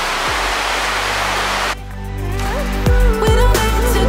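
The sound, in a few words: Lost Creek Falls waterfall in Tennessee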